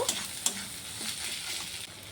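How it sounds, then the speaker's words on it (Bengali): Ginger-garlic paste frying with chopped onion in hot oil, a steady soft sizzle with a couple of sharp clinks from a stirring utensil near the start, close and fairly quiet. "এখন আমি রসুন বাটা আর আদা বাটাটা দিয়ে দেব।"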